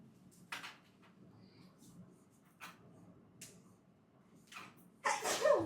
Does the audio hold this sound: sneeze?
yes